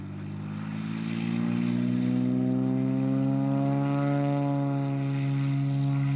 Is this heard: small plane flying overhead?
yes